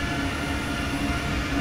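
An ICE high-speed train in Train Sim World 4 rolls along as a steady, dense rail rumble with a faint hum running throughout, loud and close with no gaps or talk.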